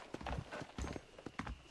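Horse hooves clip-clop in quick uneven beats as the horse approaches after a whistle in the video game Red Dead Redemption, faint but distinct against a quiet background.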